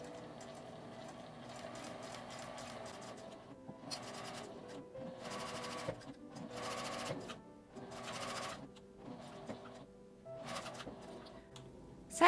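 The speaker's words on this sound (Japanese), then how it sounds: "今回はミシンを使う方法を紹介します。" Sewing machine stitching a small drawstring macaron pouch made with Daiso parts, running in several bursts of rapid mechanical chattering separated by brief pauses, close and moderately quiet.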